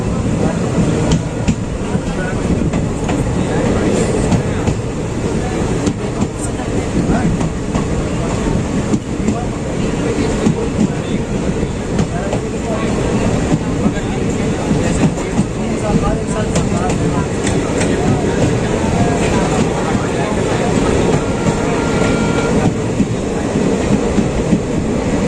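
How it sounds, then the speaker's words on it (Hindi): Kashipur–Kasganj passenger train running into a small station on the Lalkuan–Bareilly line: a loud, steady rumble and clatter of wheels on rails continues throughout, with no pause. "इसी के साथ अपनी जो ट्रेन है वो पहुंच चुकी है रिछा रोड रेलवे स्टेशन पर"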